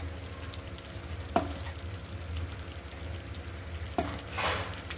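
Semolina (rava) stirring and frying in a pan for rava kesari, a soft steady sizzle with gritty scraping strokes, two sharper clinks of the spoon against the pan, close and fairly quiet with no talking.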